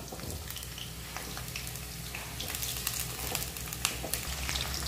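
Cauliflower frying in oil for a Navratna korma as cut potatoes are tipped into the pan, giving a steady, moderately loud sizzle with scattered crackles and pops throughout, no talk.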